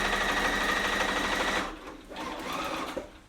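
A sewing machine stitches pieced quilt fabric for a baby quilt, a steady fast whir for most of the clip that drops off, then a softer burst of stitching starts up again close by.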